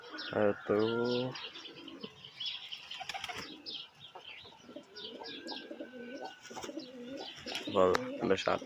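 Pigeons cooing on a rooftop, soft throaty coos and chirps mixed with bursts of flapping wings at the start and end, while someone talks over them nearby.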